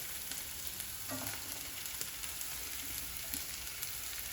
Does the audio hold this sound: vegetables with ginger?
yes